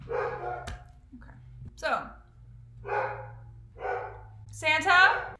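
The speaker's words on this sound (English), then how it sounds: "Can you stop barking for like a minute?" A dog barks nearby indoors in a run of sharp single barks spaced about a second apart, with a steady low hum beneath and someone speaking briefly.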